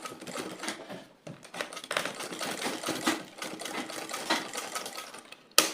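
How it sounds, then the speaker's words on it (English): A sewing machine stitches boning into a bust cage in a close, steady run of rapid needle clatter, pausing briefly once and then continuing at an uneven pace. "Then you're going to sew each bone twice."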